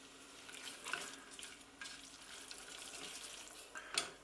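Pastry mixture in olive oil frothing and bubbling in a pan, a faint, soft crackling sizzle with a few light clinks and a brief louder spatter near the end, no voices.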